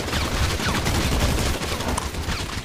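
Dense, continuous gunfire in GTA V roleplay: a loud, unbroken clatter of rapid shots filling the whole moment without pause.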